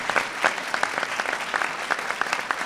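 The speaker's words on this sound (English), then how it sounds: "You can clap for Charlotte, that's okay." An audience at a public event claps steadily for a few seconds, a dense patter of many hands close by with no voices over it.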